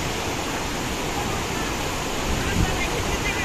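Waterfall at Tutla Bhawani in Rohtas, Bihar, a steady broadband rush of falling water filling the whole clip, loud and continuous with no break.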